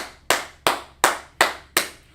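Five sharp, evenly spaced hand claps in a class, each a crisp snap with a short decay, one clapper demonstrating a steady beat.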